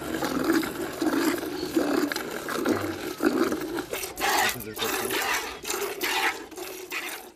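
A cow being hand-milked by the salt pans of Lake Katwe in Uganda, with rhythmic rasping squirts of milk hitting a container in quick repeated strokes, close and fairly loud.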